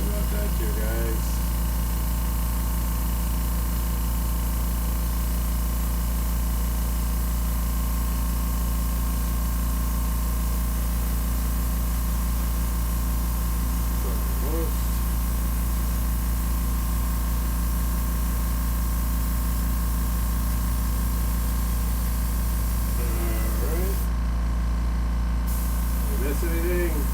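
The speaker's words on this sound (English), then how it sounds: "This is the airbrush compressor." An airbrush compressor runs steadily throughout, a constant hiss and hum with faint brief bursts of spray near the end, while people talk quietly in the background.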